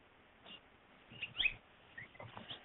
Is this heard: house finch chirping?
yes